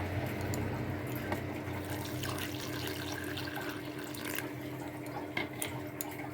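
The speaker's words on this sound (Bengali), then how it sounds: "ভালো করে এটা জল দিয়ে গুলে নেব" Malpua batter stirred together with water in a bowl, giving soft, continuous liquid sloshing and light splashing. The sound is faint and steady, with a low background hum and occasional small clicks.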